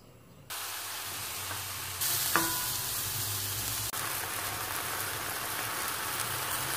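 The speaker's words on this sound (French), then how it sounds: "je vais d'abord commencer par faire revenir le mélange poivron-oignon" A mixture of bell pepper and onion sizzles in a little olive oil for a stuffed batbouts filling, a steady close frying hiss that jumps louder partway through, with a brief clink of a utensil.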